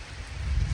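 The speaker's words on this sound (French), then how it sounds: "je suis un peu bloqué par la pluie. Ça commence à s'intensifier pas mal" Steady rain falls outdoors on a countryside walking route, a soft broadband hiss with low rumble, faint and continuous over a brief moment.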